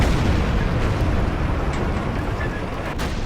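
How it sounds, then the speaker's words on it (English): Rocket artillery explosions pound away in the video game Battlefield Yugoslavia: a loud, continuous wall of rumbling blasts and booms with a few sharper cracks, with no voices. "And the rockets are still pounding away."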